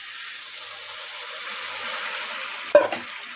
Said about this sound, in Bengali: এবার আলুর মধ্যে দিয়ে দেবো জল।